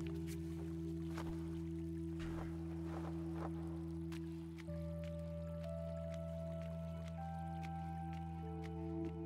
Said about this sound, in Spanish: Ese sonidito del agua.